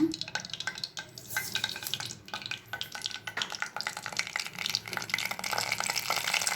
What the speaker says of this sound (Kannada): ಎಣ್ಣೆ ಕಾದಿದೆ, ಸಾಸಿವೆ ಹಾಕೋಣ.